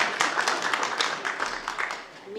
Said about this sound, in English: We'll applaud